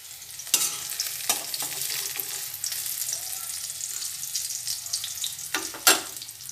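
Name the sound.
frying bori (lentil dumplings) in oil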